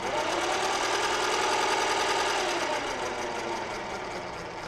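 A milling machine's gear train runs steadily after repair, giving a continuous whirring, slightly rattling mechanical drone that holds close and loud, then eases a little toward the end.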